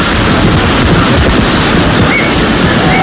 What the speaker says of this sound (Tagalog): Naging matindi ang hanging dinala ng Bagyong Yolanda dito sa Iloilo.